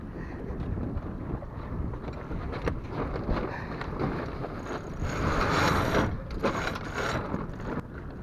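A Raven 26 sailboat tacking, with the winch ratcheting in quick clicking bursts and rigging rattling close by, heavy wind buffeting the microphone throughout and no voices.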